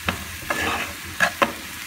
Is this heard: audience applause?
no